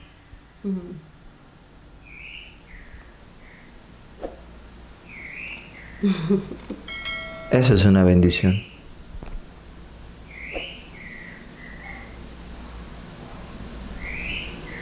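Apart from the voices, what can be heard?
small bird singing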